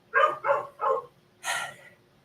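A small, lively pet dog barks three times in quick succession, then gives a fourth bark after a short pause, all fairly close and with no talking over it.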